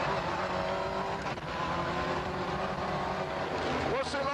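Ford Escort Cosworth rally car driven fast on a wet stage, its engine roaring steadily and close with a rising rev near the end, and a voice talking over the engine.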